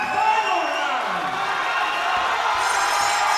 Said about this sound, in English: the crowd show their appreciation for both of these fighters